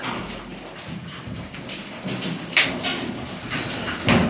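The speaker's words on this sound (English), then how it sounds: "it's just this constant rain of boulders, not boulders, but little rocks and pebbles and dirt just dribbling down" Small rocks, pebbles and dirt dribble down constantly in an old silver-boom mine, giving a continuous gritty patter with sharper clattering bursts where bigger pieces land.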